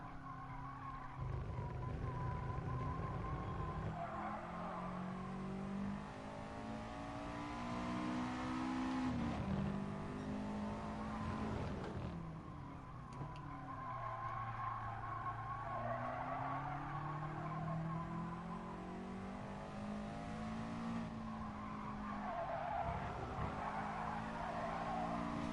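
A race car in GT Sport laps the Tsukuba circuit. Its engine revs rise and fall through gear changes, with tires squealing through the corners, heard continuously and fairly faintly.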